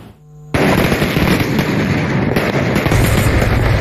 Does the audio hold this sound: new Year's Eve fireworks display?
yes